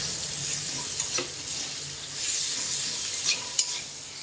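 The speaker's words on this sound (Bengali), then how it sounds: "পুরোটা একবারে সুন্দর করে ভেজে নিই" Capsicum and onion frying together in a pan, a dense, continuous sizzle with occasional spatula taps and a sharper knock near the end, close and fairly loud, no voices.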